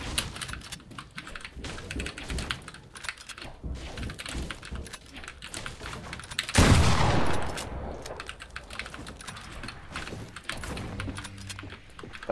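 A drum gun fired in a PC battle-royale duos match: one loud, dense burst of rapid automatic fire near the middle, set against a steady stream of clicky keyboard typing before and after.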